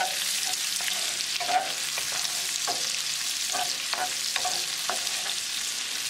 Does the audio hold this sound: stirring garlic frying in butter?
yes